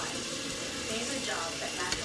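Meat sizzling in a frying pan for chili, a steady, close hiss of frying that carries on evenly throughout with faint clinks of stirring.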